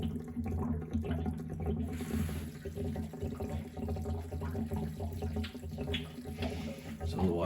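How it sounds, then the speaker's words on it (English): Water from a water heater tank rushes steadily through a drain hose in a continuous gushing flow, with a low rumbling drain sound throughout. "Now it's draining strongly."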